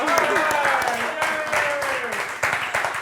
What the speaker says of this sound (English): We can applaud you too.